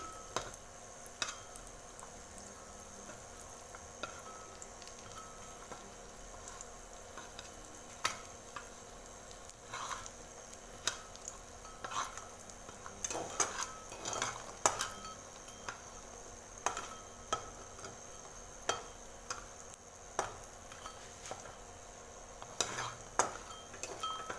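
Lentil dumplings (bori) frying in oil while being turned and stirred in a pan, with a steady sizzle, scattered utensil scrapes and clinks, and louder bursts of stirring toward the middle.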